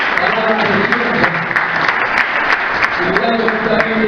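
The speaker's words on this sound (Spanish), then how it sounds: "Den un fuerte aplauso." A church congregation applauds steadily and densely for about four seconds, a continuous wash of many hands at fairly close range with faint crowd murmur and no break.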